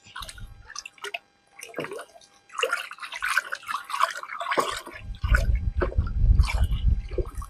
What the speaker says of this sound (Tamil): இது வந்து இதுக்கு தேவையான அளவு ஊற்றுறேன் பாருங்கள் என்ன ஆகுதுன்னு